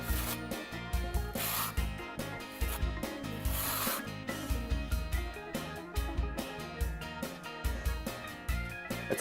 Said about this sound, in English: Apply the adhesive with a 12mm notch trowel.